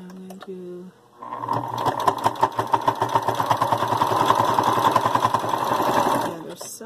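A brief bit of speech comes first, then a sewing machine runs steadily and loudly up close, stitching the other side of a fabric bowl cozy for several seconds before stopping.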